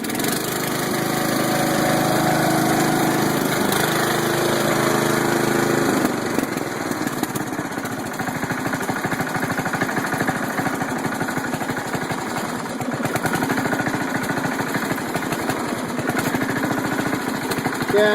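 A Cub Cadet lawn mower engine runs steadily and loudly throughout, a continuous rough drone with some flutter, heard alone with no talk.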